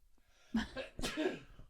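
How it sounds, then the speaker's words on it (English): A small, soft sneeze with a quick intake of breath, close by and quiet. "A little sneeze."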